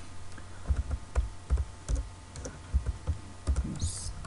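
Computer keyboard keys tapped in short uneven bursts while writing code for a Windows 8.1 app, close and fairly quiet, with a faint steady hum underneath and no talking.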